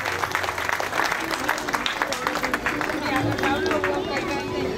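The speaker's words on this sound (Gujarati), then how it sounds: "આપણે તાળીઓથી વધાવશું એમને" Crowd applause at an outdoor Viksit Bharat Sankalp Yatra government ceremony in Kaliyabid, Bhavnagar, as a woman receives a kit on stage; steady, dense clapping fills the scene alongside crowd murmur.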